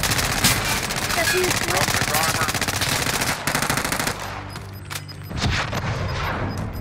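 Rapid sustained machine gun fire in a multiplayer shooter video game: long dense bursts of loud, close automatic shots, then a brief pause and more shooting, with players talking over it.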